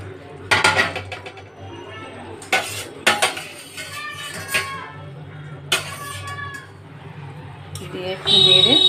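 A spoon scrapes and clanks around a cooking pot of bubbling curry with fried lentil bori and eggplant, giving a string of close metallic knocks and stirring scrapes while a voice talks in the background.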